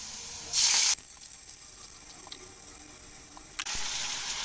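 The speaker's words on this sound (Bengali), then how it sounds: "পেঁয়াজ ভাজি ভাজি হয়ে গেছে এখন সামান্য পরিমাণ পানি দিয়ে দেব" Water poured into a hot pan of fried onions and green chillies for a Bengali pabda fish curry, giving a loud burst of sizzling hiss, then a quieter simmer, then a second strong sizzle near the end.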